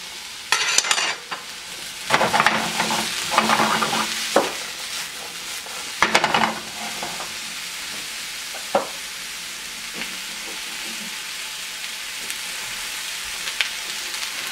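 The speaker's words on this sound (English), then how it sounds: "Here's our 2 teaspoons of olive oil. And we're just going to flash cook these vegetables" Vegetables flash cook in two teaspoons of olive oil in a pan: a bright, close sizzle with clattering stirs early on, then a softer, steady frying hiss.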